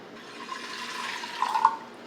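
Water pours into a pot while making a large batch of emulsified body butter: a steady liquid rush that swells briefly near the end, moderately close, with no talking.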